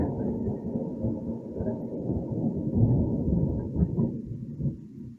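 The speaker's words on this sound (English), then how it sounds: "hold for lightning, for thunder." Thunder rolls as a continuous, deep, muffled rumble that swells slightly in the middle before fading, with no other sounds present.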